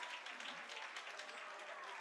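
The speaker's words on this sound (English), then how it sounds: "giving their Lions a round of applause" A football crowd at a high school game between the Herrin Tigers and Carterville Lions applauds at halftime, steady distant clapping and cheering across an open stadium, fairly faint.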